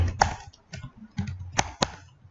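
Keys clacking on a computer keyboard while C++ code is typed, a few sharp separate clicks with short pauses between them, close and fairly quiet.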